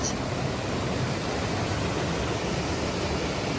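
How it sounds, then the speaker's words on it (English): Waterfalls beside the Appalachian Trail make a steady, broad rushing hiss. The sound is moderately loud and unchanging, with no voices. "There's some waterfalls in here."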